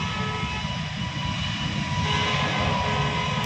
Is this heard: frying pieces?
no